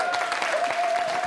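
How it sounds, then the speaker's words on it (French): A studio audience on a French comedy sketch show claps in a brief, fairly dense patter at moderate volume, with a sustained electronic tone running beneath it. "on l'applaudit"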